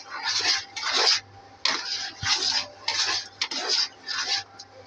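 Dal with potatoes and roasted cumin powder stirred in a pot, bursts of rhythmic scraping and rubbing strokes against the metal, close and moderately loud with brief pauses between.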